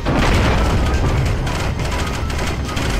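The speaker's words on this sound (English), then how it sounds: "Grenade!" A grenade goes off in the video game 007 Agent Under Fire, a loud, dense explosion rumbling continuously for several seconds amid gunfire-like crackle.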